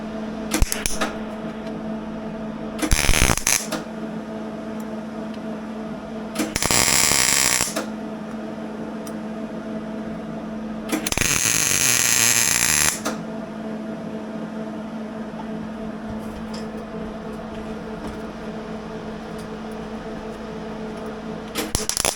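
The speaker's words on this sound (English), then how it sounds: "We're going to do the best we can and fill the rest in with weld." Gas-shielded welding on a telehandler repair comes in three separate bursts of harsh crackling hiss, each a second or two long. A steady electrical hum runs underneath throughout.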